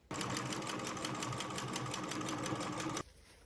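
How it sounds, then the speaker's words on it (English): Sewing machine runs in a fast, steady mechanical chatter, stitching a quarter-inch seam along the edge of a fabric microwave cup cozy for about three seconds before stopping abruptly. "take to the sewing machine and sew along this edge with a 1/4 inch seam allowance"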